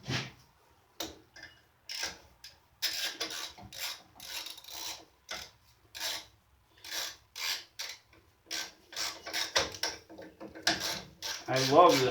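A hand ratchet tightens a carburetor mounting bolt on a small engine such as a snowblower or lawnmower, with repeated close, crisp bursts of clicking pawl strokes separated by short pauses over about twelve seconds, with no talking.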